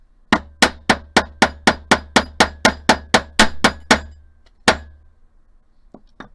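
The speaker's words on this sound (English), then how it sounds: "I'm going to take my bench block, my hammer, and I'm going to pound the crap out of this end until it looks like a paddle" A hammer strikes a metal wire end on a steel bench block about fourteen times in a quick, even rhythm, sharp ringing clinks up close, followed by one more blow after a pause.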